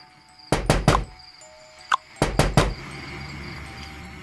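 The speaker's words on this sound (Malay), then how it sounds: "Pintu diketuk-ketuk lagi." Someone knocks on a bathroom door in two close, sharp sets of three raps, with a faint tap in between and quiet after.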